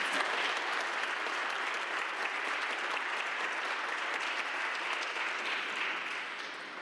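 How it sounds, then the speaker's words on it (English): Sustained audience applause fills a Cleveland City Council swearing-in ceremony, dense steady clapping from a large room that carries on for about seven seconds and tapers slightly at the end, with no voices over it. "Let's give Mayor Bibb a round of applause."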